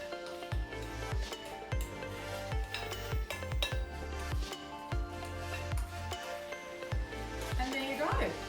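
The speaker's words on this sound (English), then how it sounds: "So we're going to give this a little bit of a stir." A spoon stirs a soy, sesame and chilli pickling dressing in a bowl, giving a steady run of light clinks and scrapes against the dish, with a voice at times.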